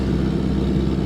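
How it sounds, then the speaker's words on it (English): A car engine with an exhaust leak runs steadily and loudly close by at a beach, a continuous low rumble with no pauses and no voices. "that's the exhaust leak if you can"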